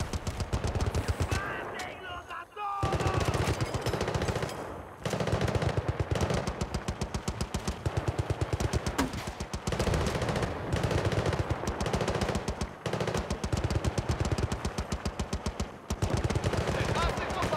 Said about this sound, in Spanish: ¡Una ametralladora!